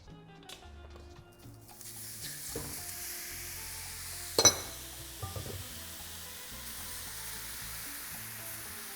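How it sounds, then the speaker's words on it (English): Beef fajita meat and vegetables sizzle quietly in a hot skillet while being stirred, a steady soft frying hiss broken by a few scraping clicks of the utensil against the pan. "I'm gonna go back to the skillet, put the meat in, add the veggies, and stir them up constantly"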